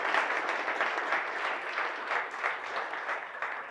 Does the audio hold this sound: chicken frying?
no